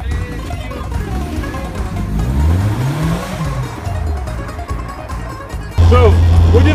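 A small open-top Caterham sports car engine revs and accelerates loudly, pitch rising and falling through gear changes, with tire noise and people talking and exclaiming over it.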